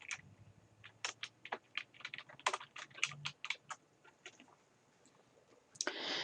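Bursts of typing on a computer keyboard, quick irregular key clicks entering place names into a Word 2013 document, close and clear, with a faint bird call in the background.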